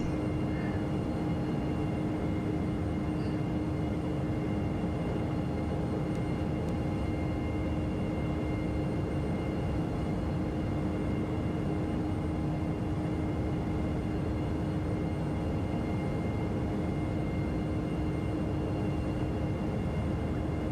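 Steady cabin drone of an FSS E-Jet airliner in gusty headwind flight in Microsoft Flight Simulator 2020, a continuous broadband engine and airflow roar with a faint tonal whine, unchanging throughout and free of speech.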